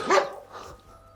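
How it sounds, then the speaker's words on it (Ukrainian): A guard dog at an old farmstead in a Lemko hamlet gives a single sharp bark at moderate distance, followed by quiet. "Собака-охоронець."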